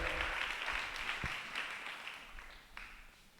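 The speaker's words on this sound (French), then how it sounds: "acclamons pour la parole" Church congregation at a children's Sunday school service applauding, a dense continuous patter of many hands clapping fairly close, with a single sharp thud partway through, fading slightly toward the end.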